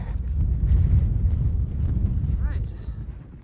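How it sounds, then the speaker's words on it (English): Strong wind buffets the microphone on a mountain hiking trail in wind and rain, a loud low rumbling roar that gusts and eases, with faint higher sounds over it. "We've got that charming wind-rain combo going on right now."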